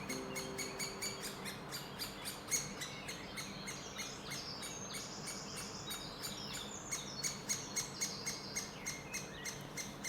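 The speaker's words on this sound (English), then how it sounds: "The calls of young woodpeckers waiting to be fed." Young woodpeckers calling to be fed in a forest near a marsh in Sweden, a rapid, regular string of thin, high chirps that keeps going throughout, faint and somewhat distant, over soft insect-like ambience.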